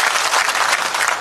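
A crowd at a political rally in Yusuf Vadgaon gives dense, loud applause, a brief continuous burst of many hands clapping together.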